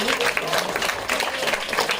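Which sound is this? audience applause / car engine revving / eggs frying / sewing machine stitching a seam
audience applause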